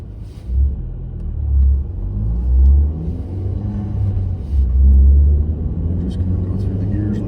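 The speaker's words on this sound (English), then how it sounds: "We're just going to go through the gears like normal." A car pulling away from a traffic light on a commute, its engine rumbling low and swelling repeatedly as it accelerates through the gears, heard from inside the cabin while someone talks.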